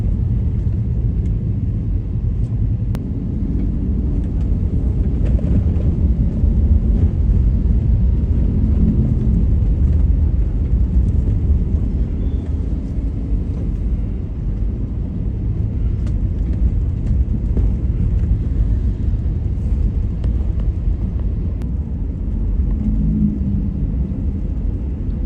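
Road traffic crawls in a heavy jam between Takalar and Gowa, with many vehicles and container trucks, heard as a constant loud low rumble of engines close by, without speech.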